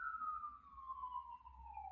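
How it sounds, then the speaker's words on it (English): A siren passes outside, heard as one faint, steady wail that glides slowly downward in pitch for about two seconds over a low background rumble, with no one talking. "Sorry, there's a siren going by."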